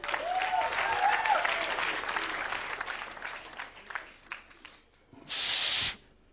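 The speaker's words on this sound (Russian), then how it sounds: "Ваши аплодисменты." Audience applause at a comedy duo's sketch show, a dense burst of clapping that swells, thins into scattered claps, then gives way to a short loud hiss near the end.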